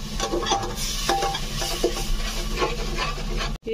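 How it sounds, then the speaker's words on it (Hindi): Masala with turmeric powder and salt roasts in oil for rajma curry, giving a steady close sizzle under repeated scraping stirs of a spoon against the pan, with no voices. "अब इसे अच्छी तरीके से भूंजूंगी जब तक तेल ऊपर ना आ"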